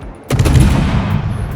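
Ship guns firing in World of Warships aboard the Sejong: one loud, sudden broadband blast followed by a sustained rumbling roll that stays heavy through the rest of the moment.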